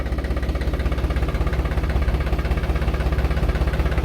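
Loud, steady throb of a tractor's diesel engine running at a constant pace, with a rhythmic low chugging filling the whole recording.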